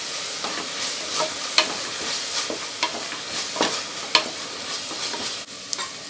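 Ginger garlic paste sautéing with onions in a pan for an idli chicken kuzhambu, stirred steadily, with a continuous close sizzle broken by repeated sharp scraping strokes of the spoon.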